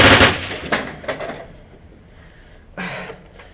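Several sharp gunshots in a video game ring out close together at the start, then a quieter stretch before one more shot near the end.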